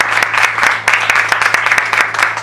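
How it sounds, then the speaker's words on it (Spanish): A church congregation applauds loudly during a night service, a thick, steady patter of many hands clapping with a low musical drone underneath. "Dale un fuerte aplauso a la iglesia."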